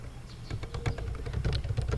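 Rapid clicks of typing on a computer keyboard while HTML list code is entered, close and moderately loud, in a quick irregular rhythm with no voices.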